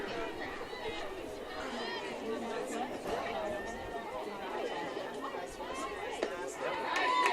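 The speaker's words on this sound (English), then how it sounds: "You hear the boos and the cheers from both sides on that crowd mic" Crowd noise at a high school 4A sectional softball game between Carmel and Noblesville, a steady mix of chatter, boos and cheers from both sides, swelling slightly louder at the end.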